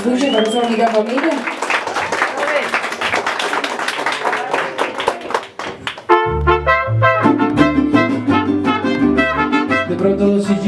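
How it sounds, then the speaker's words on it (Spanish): Audience applause at a quinceañera with a juvenile mariachi band, a dense burst of clapping that gives way to loud mariachi music with trumpets and strings. "un fuerte aplauso para ustedes"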